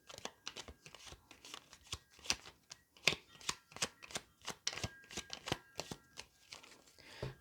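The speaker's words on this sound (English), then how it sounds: "So let's just give the cards a good shuffle." Tarot cards shuffled by hand during a card reading, a close, quiet run of sharp riffling snaps and taps in an irregular rhythm, with no talking.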